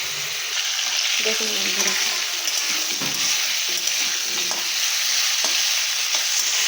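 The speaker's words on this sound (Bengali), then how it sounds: "এটাকেও একটু ঠিক ওই রকমভাবেই আমি ভেজে নিচ্ছি বন্ধুরা" Food frying in a pan with turmeric and chili powder, a steady bright sizzle with occasional stirring scrapes, close and continuous, with a brief spoken remark at the start.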